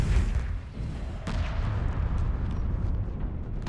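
Heavy ship guns firing in a Homeworld 2 total conversion mod, a dense rumbling barrage of booms and blasts rolling continuously, loud and close, with a sharper report about a second in.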